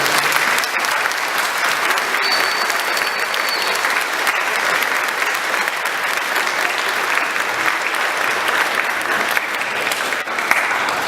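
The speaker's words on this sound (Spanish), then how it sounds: "Denles un fuerte aplauso" A church congregation applauds during Mass, sustained, even clapping from a large crowd lasting the whole stretch, with no speech over it.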